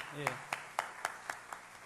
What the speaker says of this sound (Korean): 우리 함께 힘차게 박수로 축복하고 격려하겠습니다